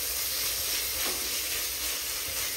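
Ginger garlic paste stirred in hot oil in a pan gives a steady, close, dense sizzle that hisses evenly throughout, with no voices.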